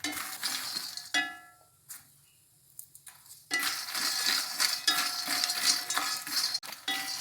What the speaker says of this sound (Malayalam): അപ്പോൾ നമ്മുടെ ലോട്ടസ് സീഡ് ഇവിടെ ഫ്രൈ ആയിട്ടുണ്ട്. ഇതാ കേട്ടോ, പൊട്ടണു.